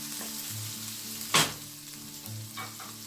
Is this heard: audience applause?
no